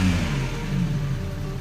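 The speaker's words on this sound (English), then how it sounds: "The next thing that I had booked was a guided tour in vintage cars." A vintage car engine revs up close and loud, a throaty mid-pitched roar that rises and then settles over less than two seconds, with no talking.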